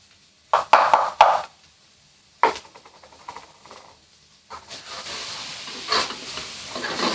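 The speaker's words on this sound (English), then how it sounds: "you'll notice that the bacon fat is already rendering" Two strips of bacon fry in a pan, first with a few sharp scraping stirs and clanks, then a soft, spreading sizzle hissing steadily underneath.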